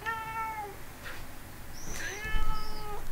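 An indoor house cat meows several times close up, a drawn-out call followed by a couple of shorter rising meows, with faint room rustling between them and no talk.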